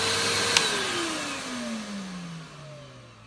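A brand-new Numatic Nuvac VNP180-11 vacuum cleaner motor running with a slightly grumbly tone, a steady whine that slowly drops in pitch as it spins down, heard close and alone.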